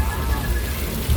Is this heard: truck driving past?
no